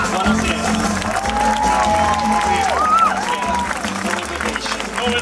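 Crowd applause at a cabaret festival in Grottammare greeting a comedian, loud continuous clapping mixed with cheers and whoops, music playing beneath and voices calling out within the noise.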